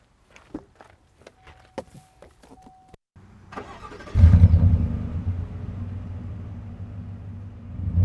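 A few soft footsteps and clicks, then a 2021 Chevy Silverado 1500 4WD RST pickup cranks and fires up, settling into a steady, close, low-pitched idle rumble.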